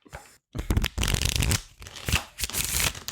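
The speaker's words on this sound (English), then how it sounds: "Let's shuffle up these cards, though, somehow." A deck of thick, stiff playing cards is shuffled up close in several bursts of rapid riffling and flapping, separated by short pauses, with no talking.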